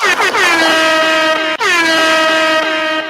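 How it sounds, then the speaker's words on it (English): Two loud, blaring air horn blasts triggered by a DJ, each a long sustained honk close up, sounding back to back with a brief break between them. "DJ, drop them air horns."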